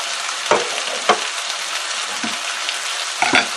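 A turkey steak with parsley and fennel simmers loudly in a pan, a dense close sizzle broken by a few brief stirring scrapes, with no talking.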